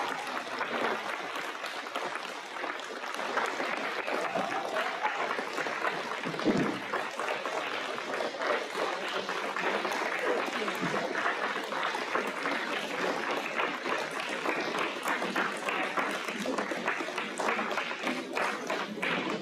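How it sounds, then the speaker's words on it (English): Crowd at the Chief Kw'eh community celebration giving a long, massive round of applause for an honored matriarch: thick, unbroken clapping that stays strong for nearly twenty seconds with no speech. "So can we please give her a massive round of applause."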